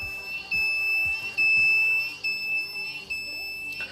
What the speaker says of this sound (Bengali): তখন এভাবে অ্যালার্ম দিতে থাকবে।